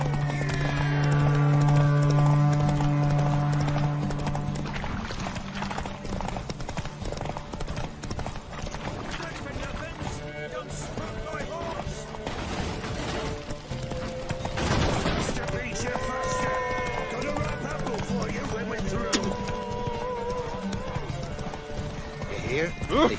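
In a horse race in The Witcher 3, hooves pound at a fast gallop in a steady, close clip-clop rhythm, with a whinny, talk and game sounds over it.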